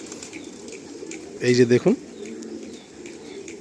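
Pigeons coo in short bursts at a pigeon loft in Subhashgram, West Bengal, close and fairly loud for about half a second under someone talking.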